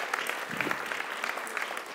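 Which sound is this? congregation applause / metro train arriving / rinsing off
congregation applause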